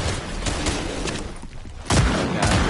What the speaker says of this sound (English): There's two different teams shooting at me